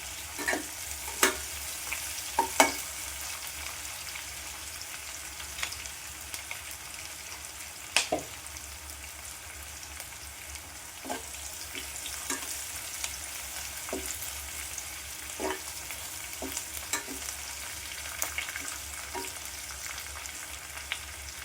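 Okra and coconut stir-fry being stirred in a pan, a soft steady sizzle with scattered scraping taps from the spoon at an irregular pace, close and fairly quiet.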